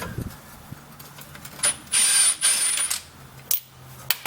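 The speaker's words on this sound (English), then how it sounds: "we're going to need the 7/8 wrench on the back side" A 7/8 wrench works the rear bolt of a shock absorber on a 1992 Toyota pickup, giving short metallic ratcheting and clanking bursts with brief quiet gaps, close by and with no speech.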